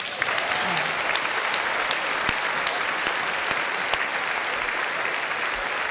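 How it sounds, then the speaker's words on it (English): Sustained applause fills a crowded room at an AFLW Best and Fairest award ceremony, dense and steady from start to finish with a few sharper claps standing out. "Let's have one more round of applause for your 2025 AFLW Best and Fairest winner, Ash Riddell."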